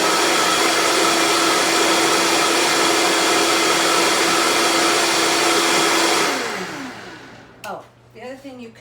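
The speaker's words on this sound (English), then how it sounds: "Let's get the blender going." A blender whirs loudly and steadily as it purees a greens drink, then winds down near the end with a few brief clicks and rattles as it stops.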